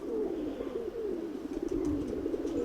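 A pigeon of a high-flying breed coos steadily in low, soft, rolling tones that run unbroken for a few seconds against a faint background hiss.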